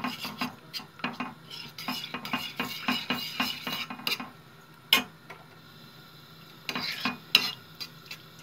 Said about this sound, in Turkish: salçamızı koyuyoruz ve salçayla yağ birbirine bütünleşecek kadar, eriyecek kadar kızgın yağda